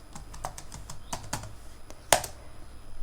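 Keys clattering on a computer keyboard as a command is entered, a quick irregular run of close taps ending in one sharp, louder keystroke like Enter, then a few lighter clicks.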